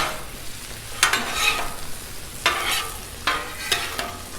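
Vegetables hitting a hot Blackstone griddle for spicy Italian sausage subs, giving a steady close sizzle broken by a few sharp bursts of scraping and stirring at irregular intervals, with no talk.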